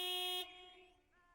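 A big, white, wobbly truck sounds a single loud horn blast in the video game Lake, the tone cutting off after under half a second and leaving a fading tail.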